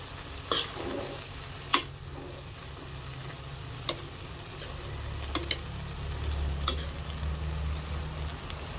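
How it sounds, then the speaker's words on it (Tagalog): Bean sprouts, tofu and cabbage stir-fried in a pan give a low, steady sizzle broken by a few sharp clacks of a utensil against the pan, fairly quiet overall. "Ilalagay ko na rin po itong repolyo. Akin po lang ulit hahaluin."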